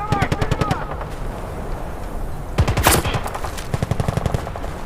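Battlefield Bad Company 2 combat: fast machine-gun bursts rattle in close, evenly spaced rapid shots, then a louder crackling blast and more bursts; someone speaks in between and over the firing.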